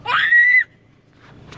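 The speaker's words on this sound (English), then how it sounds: "you heard the scream?" A single shrill, loud scream from one person holds high for about half a second, then cuts off, leaving near silence with faint rustling.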